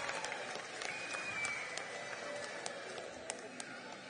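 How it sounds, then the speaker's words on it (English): Audience applause at a high school Indonesian Club performance during an evening show, a faint, distant patter of clapping from a crowd with a few sharper claps nearer. "And another round of applause for our ladies and gentlemen from Kia'au High School,"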